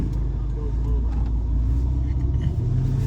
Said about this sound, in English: now we're going to drive around the neighborhood